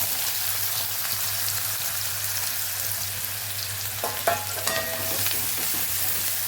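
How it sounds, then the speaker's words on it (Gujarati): The white part of green onion sizzles steadily in hot oil with cumin and asafoetida, a dense continuous frying hiss with a few sharper crackles and stirring scrapes near the end. "ડુંગળીનો સફેદ ભાગને પહેલાં સાતડી લઈશું"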